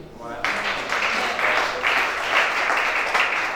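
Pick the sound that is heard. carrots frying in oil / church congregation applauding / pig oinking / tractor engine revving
church congregation applauding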